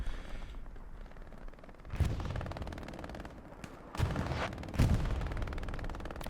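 Artillery fire in the video game Hell Let Loose, on the Stalingrad map: a steady low rumble of distant gunfire broken by three heavy booming impacts, each a sharp loud burst that fades quickly, with no talk.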